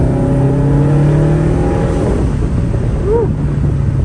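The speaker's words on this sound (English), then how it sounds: "We got some backfires." A 2018 Subaru WRX STI with a manual gearbox accelerates hard, its engine note rising loud and close with wind rush, then a short pop of backfire near the end.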